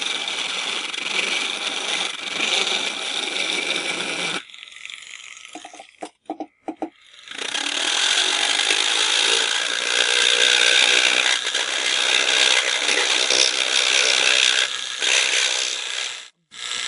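A rotary tool slowly working excess glue off a hairpiece gives a steady, close, buzzing whine that stops briefly, stutters through a few short bursts, then runs on continuously without talk.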